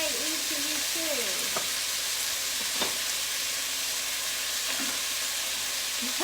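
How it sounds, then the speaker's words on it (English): Chicken pieces fry in a pan for cashew chicken with a dense, steady hiss, close and even throughout, while faint voices talk briefly underneath at the start and near the end. "going to get this chicken cooked up here pretty quickly"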